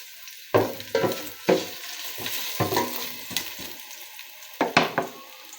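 Ginger sautéing in a pan, heard as a steady close sizzle broken by repeated loud scraping and stirring strokes in irregular bursts, with no talking.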